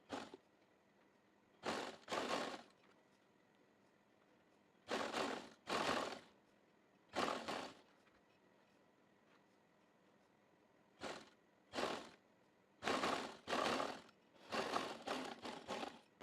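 A sewing machine stitches lace onto trousers in short bursts, about nine separate runs of rapid mechanical whirring with quiet pauses between them.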